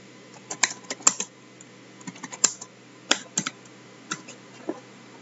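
Typing on a computer keyboard, irregular bursts of sharp clicks and key taps at close range, alone with no voice.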